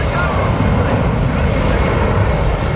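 A Boeing C-17 military transport aircraft passes slowly during a demonstration at Beale Air Force Base, its jet engines producing a loud, steady roar that fills the whole stretch.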